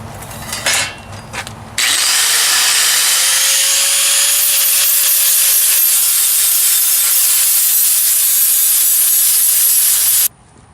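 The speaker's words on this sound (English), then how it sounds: "I think what I'm gonna do is put like a brushed finish on it with some sandpaper, just up and down" Steady hand sanding of a metal piece with sandpaper, a continuous loud abrasive rub lasting about eight seconds before stopping abruptly, preceded by a few brief handling knocks.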